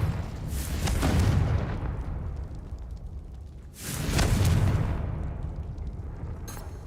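Two loud booming blasts from the Confringo explosion spell in Hogwarts Legacy, each a deep rumbling burst that swells and slowly fades, about three seconds apart, with no talk.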